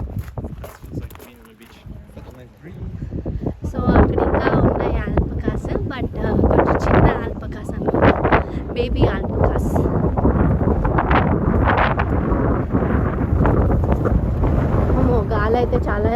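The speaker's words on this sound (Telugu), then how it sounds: "గాలి అయితే చాలా వేస్తుంది" Strong gusts batter the microphone at an alpaca farm, a loud, constant blustery roar that swells after a quieter start, with voices talking through it.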